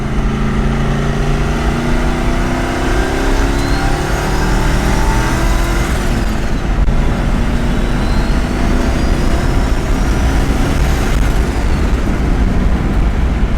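A turbocharged 5.0 Ranger truck accelerates in third gear, its engine a loud, steady drone with harmonics climbing gradually in pitch over roughly fourteen seconds, with no voices.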